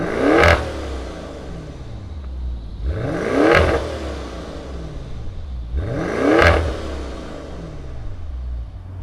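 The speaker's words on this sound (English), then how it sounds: "Let's go ahead and fire up the Levante." A 2019 Maserati Levante GTS SUV fires up and revs hard three times, each blip rising to a loud, close roar and falling back to a rumbling idle between the pulses, with no voices present.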